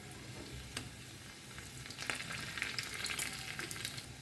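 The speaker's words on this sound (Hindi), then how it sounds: "और इसे ना एक बढ़िया सा ब्राउन कलर आने तक हमें इसे फ्राई करना है।" Chopped garlic fries in oil in a pan while being browned for palak paneer, a soft steady sizzle with occasional stirring scrapes, fairly quiet and close.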